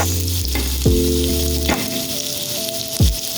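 Ginger and onion sautéing in a pan with garlic for a coconut-milk crab and shrimp dish, a loud close sizzle with a few sharp utensil strikes and scrapes, and a steady hum beneath.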